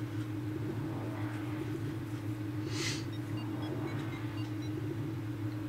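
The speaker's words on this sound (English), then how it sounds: "This elevator will take us to actually a new area" A steady low mechanical rumble and hum from an elevator ride in the Metroid Prime video game, heading into Phendrana Drifts. It drones on evenly throughout, with a brief airy whoosh near the middle.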